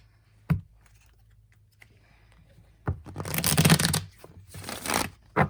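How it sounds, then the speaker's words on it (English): Tarot cards are handled up close: a couple of soft taps, then two bursts of riffling shuffle, brisk and papery, in an otherwise quiet room. "Trying to get this guy nice and shuffled."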